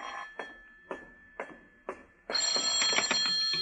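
A telephone bell rings in four short bursts, then a steady bright ring, clear and close, set in a Philip Marlowe radio detective drama.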